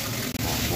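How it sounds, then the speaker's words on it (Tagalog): Water is poured to clean a bathroom floor, a loud, close, steady splashing gush with one very brief break. "Bubuhusan natin yan ng tubig."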